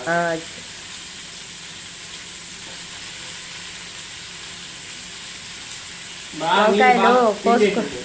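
Brinjals frying in a pan of oil for sambar, a steady soft sizzle throughout, with a louder burst of spluttering near the end as the pieces go in; a voice speaks briefly at the start.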